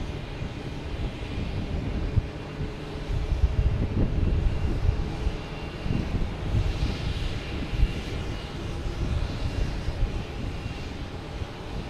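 A distant airplane landing at Logan Airport roars steadily, swelling slightly in the middle, mixed with low wind rumble; no voices.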